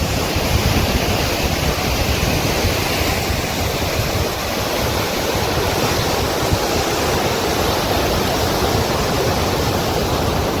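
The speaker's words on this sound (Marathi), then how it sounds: "अतिशय सुंदर पाणी पडत" Water pours over Pali Bhutivali dam in a continuous, loud, broadband roar that holds steady the whole time, with no voices.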